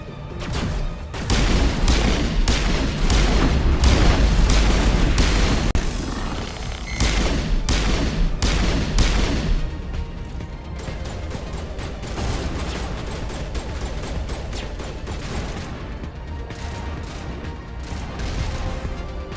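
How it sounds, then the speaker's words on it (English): Rocket launches and gunfire in the Xbox game Mass Effect 1: dense rapid bursts of shots and booming blasts, loud and close for the first half, then thinner, scattered firing that continues on. "Launching rockets over there too"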